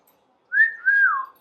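A pet bird gives a clear, close whistle, a rising note that glides on and then falls away, loud and alone against silence.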